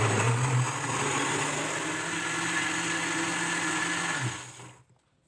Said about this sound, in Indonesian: Kemudian, blender sampai halus.